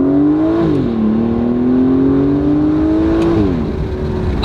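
An Aston Martin Vanquish's 6-litre V12 engine revs loud and close, a deep steady growl that climbs, holds, then dips slightly, alone without talk.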